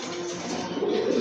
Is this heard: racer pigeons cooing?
yes